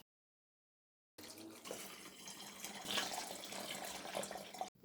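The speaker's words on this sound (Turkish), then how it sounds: "Üzerine de doluncaya kadar içme suyu koyuyorum." After a second of silence, drinking water pours steadily from a tap or bottle into a container for turnip juice, a continuous close splashing stream that rises slightly as the vessel fills.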